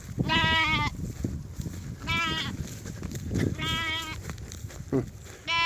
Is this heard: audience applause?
no